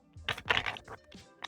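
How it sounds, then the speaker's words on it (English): Quick papery riffles and soft taps of playing cards being shuffled, a few short bursts close by, with no talking. "I will give the cards one last little shuffle"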